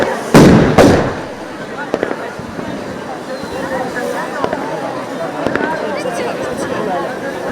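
Firecrackers burst at an Easter celebration in Leonidio, Greece: two loud close bangs open, then scattered sharper cracks and pops carry on over a steady crowd murmur.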